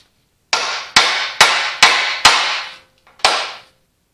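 Six sharp, ringing hammer blows strike steel while driving the pin out of the steering U-joint on an Allis Chalmers WD45 tractor, evenly spaced at first with a short pause before the last hit.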